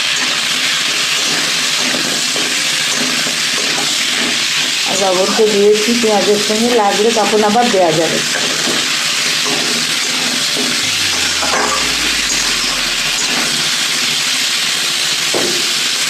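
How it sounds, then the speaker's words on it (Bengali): Potatoes and tomatoes fry with onion and ginger in a pan, a loud steady sizzle and hiss running throughout, while someone speaks over it in the middle. "আমি আলু আর টমেটোগুলো দিয়ে দিলাম, এর সঙ্গে আলু টমেটোটা ভাজা ভাজা করে নেব"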